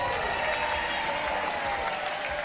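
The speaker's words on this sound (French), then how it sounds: "Applaudissez Jessica et Frédéric." A TV game show studio audience applauds steadily and loudly for contestants Jessica and Frédéric, a dense, continuous wash of clapping without pauses.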